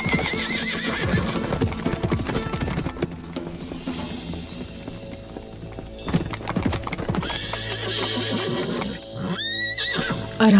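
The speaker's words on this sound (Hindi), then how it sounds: "घोड़े का रास्ता रोको, जाओ उसे पकड़ो।" A horse gallops hard with pounding, rapid hoofbeats and lets out a loud, shrill whinny near the end, all close and busy amid a rushing, chaotic action-scene background.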